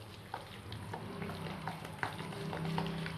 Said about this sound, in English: now I'm going to mix all the ingredients together